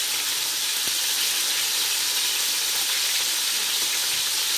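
Lamb chops frying in a pan over lowered heat, giving a steady, close, bright sizzling hiss that runs unbroken throughout with no talking.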